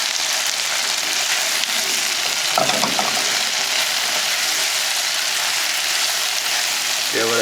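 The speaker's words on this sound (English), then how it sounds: "Now let's give this a stir for like the next minute." Crushed garlic and sliced onion stir-fry for chicken chow mein, making a steady, rain-like hiss close by, with a couple of brief vocal sounds cutting in.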